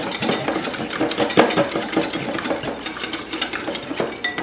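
A small wire whisk beats half and half into a coconut cream pie filling in a bowl, a fast continuous rattling scrape that stays close and fairly loud throughout.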